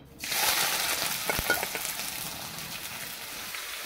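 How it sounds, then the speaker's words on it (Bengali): Chopped onion hits hot oil in a pan for a Bengali stuffed kakrol dish, bursting into a loud sizzle that settles into a steady, slightly fading fry with a few soft stirring clicks. "তো তেল গরম হয়ে গেছে। এখন আমি পেঁয়াজটা দিয়ে দেব।"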